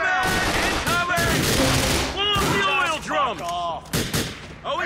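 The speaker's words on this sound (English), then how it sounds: "keep the automatic shotgun and keep fighting" Automatic shotgun blasts and other gunfire from a biker gang battle in GTA 4 The Lost and Damned, with loud, rapid overlapping shots and booms. Shouting voices run throughout the fight.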